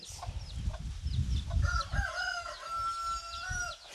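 Hens cluck and chatter nearby while a rooster crows in a long drawn-out call, with soft shuffling underneath.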